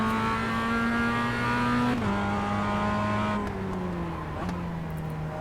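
A race car engine drones loud and close in the iRacing sim as a red and white Miata pulls past, its steady high whine stepping down through the gears with brief shifts and no voices.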